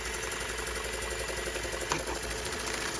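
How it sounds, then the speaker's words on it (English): A Jensen 20G toy steam engine runs under load with a continuous mechanical whir and rapid rhythmic chuffing, steady and close, with a brief click partway through. "But as you can hear, this engine's working a little harder now."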